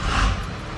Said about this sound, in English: So now I'll show you with the truck running